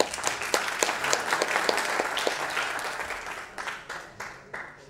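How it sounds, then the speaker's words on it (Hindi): An audience at a film music launch event claps in response to a call, a fairly loud burst of applause that gradually thins into sparse, separate claps. "आप जरा एक बार ताली बजा दीजिए हो सके तो।"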